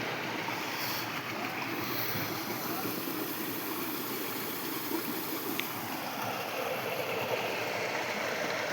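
River water flowing steadily along a bank, a close, continuous broadband rush with no breaks and no other clear sounds over it.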